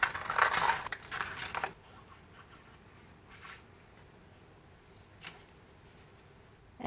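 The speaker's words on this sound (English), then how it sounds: "Now we'll take a piece of sandpaper and cut out the same rectangle." Scissors cutting a rectangle out of sandpaper, heard as a close burst of gritty, rasping crunches at first, then sparse fainter scrapes over near silence.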